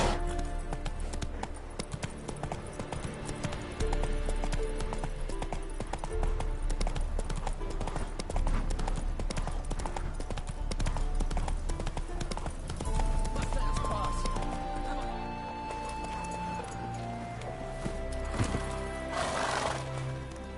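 Hooves clip-clop steadily from a horse in the Witcher 3 video game, heard through dense music and game ambience, with the animal neighing, while a voice talks over it.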